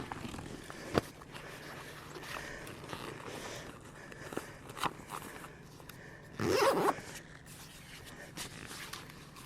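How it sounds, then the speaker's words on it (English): A bag with the air pressed out is zipped shut, a soft scraping zip with a louder, longer pull near the end, close by, among faint rustles and shuffling. "lay it on its side, put my knees on it, and finish zipping it up"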